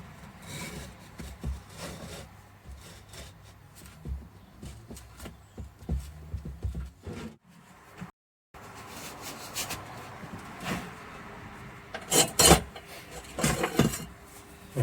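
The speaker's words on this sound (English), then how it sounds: "Sliding the slabs" Metal slabs slide and scrape into a container while a small gas forge is being built, giving a series of close rubbing and sliding scrapes with brief pauses and a few sharper knocks near the end.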